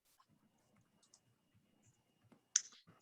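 Soft, sparse clicks of a computer keyboard come from typing a recipe search. The keystrokes are faint and irregular in a quiet room, with one sharper tap near the end.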